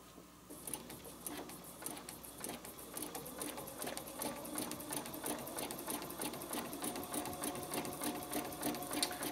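A sewing machine fitted with a size 90 topstitch needle stitches with polyester embroidery thread, giving a steady, rapid, close mechanical whirr that runs continuously with no talking.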